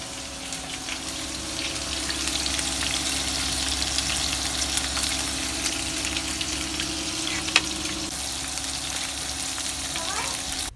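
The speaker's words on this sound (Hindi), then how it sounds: "उनको मैं भी तल लूँगी" Kebabs fry in hot oil with a steady, dense sizzle that holds loud and close throughout, with a few small clinks and bubbling pops standing out over the crackle.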